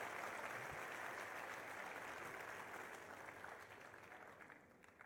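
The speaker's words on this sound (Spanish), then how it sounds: "Démosle un fuerte aplauso, aunque no está aquí," Audience at an in-person session giving a loud round of applause for a senator, dense sustained clapping from many hands that gradually thins toward the end.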